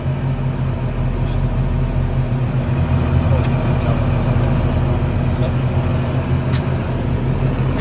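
A Claas Xerion tractor works a field pulling a Sumo cultivator, with a loud, steady engine drone and deep low rumble that never lets up.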